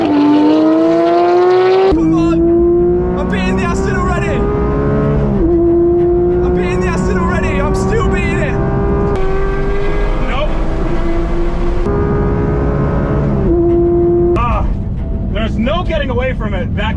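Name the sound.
Porsche GT3 and another car racing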